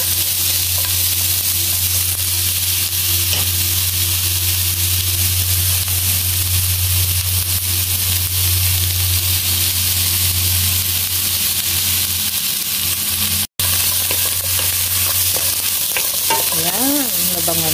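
Chicken and onions fry in a pan with a steady, close sizzle and crackle that runs unbroken the whole time, with brief stirring near the end.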